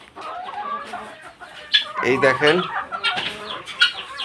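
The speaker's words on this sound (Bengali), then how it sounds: "আমার ফার্মের মুরগিগুলো আলহামদুলিল্লাহ ভালো আছে" Chickens on a farm cluck and squawk in a lively cluster of calls, close by and fairly loud, with someone speaking briefly among them.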